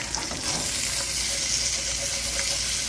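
Green beans fry in a pan with garlic and Cajun seasoning, producing a loud, dense, continuous sizzle with hissing steam and occasional stirring scrapes, close and without speech.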